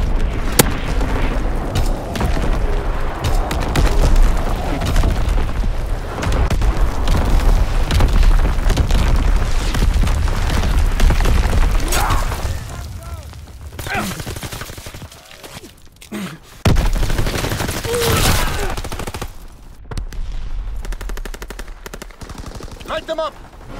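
An artillery battery fires in a video game: heavy, rapid booms and explosions rumble continuously for a long stretch, with a few short lulls and bursts of gunfire, mixed with game voices.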